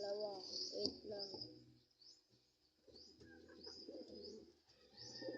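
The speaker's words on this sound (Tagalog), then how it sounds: "Papakita ko pala yung mga breeder ko, mga kalapatids." Breeding pigeons coo in a loft, with repeated soft low coos recurring through the clip near the listener, alongside higher chirps and calls.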